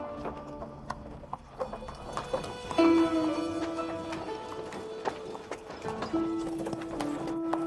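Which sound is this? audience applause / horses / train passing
horses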